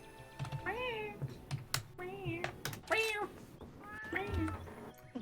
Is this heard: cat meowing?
yes